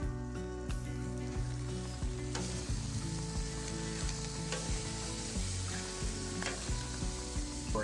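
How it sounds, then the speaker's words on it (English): Steaks flipped on a Blackstone griddle sizzle loudly and continuously up close, with occasional clicks and scrapes of tongs against the flat-top, and no talking. "and we're gonna give our steaks a flip."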